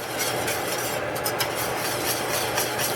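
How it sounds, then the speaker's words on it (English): Flat leaf parsley is stirred into a white sauce in a pan, a soft continuous scraping and swishing of a utensil with faint clinks, close and quiet, no talking. "I'm going to go ahead and stir that in."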